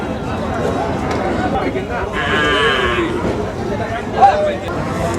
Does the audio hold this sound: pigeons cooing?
no